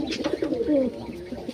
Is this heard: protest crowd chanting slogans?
no